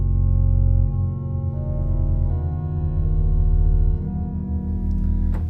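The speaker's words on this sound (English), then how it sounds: "The 16-foot by itself sounds like this." Deep, sustained pipe organ tones on a low 16-foot flautat flue stop, warm and steady, moving between a few long held notes and chords.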